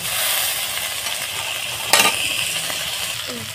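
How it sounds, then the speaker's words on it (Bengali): Spring onion leaves fry lightly in a pan with a steady, close sizzling hiss, broken by a single sharp metallic clink partway through. "পেঁয়াজ পাতাটা হালকা করে একটুখানি আমি ভেজে নেব"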